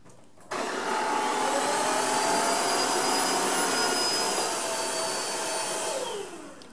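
A Tineco iFloor 3 wet floor vacuum cleaner starts up abruptly and runs with a loud, steady high-pitched whine and airy roar, then winds down near the end, heard alone.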